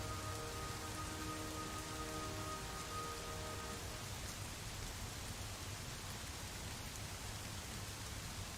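Steady light rain in a WW2 aircraft carrier simulator game set off Japan, an even hiss of drops on a surface that keeps going throughout, with a faint tonal hum fading out early.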